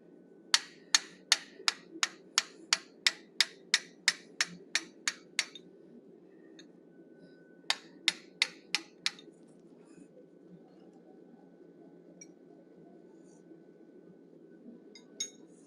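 Hammer strikes on a 1/8 inch fuller flaring the outer portion of a forged animal ear: two runs of sharp, ringing metallic blows in quick steady rhythm, about a dozen then five, over a low hum, with a faint later tap.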